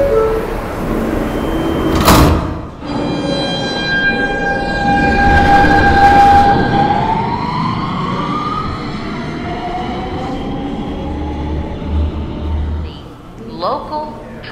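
A New York subway E train in Roblox rumbles through a station, a loud rolling rail roar with a horn blast early on and a whining motor pitch that slides as the train moves.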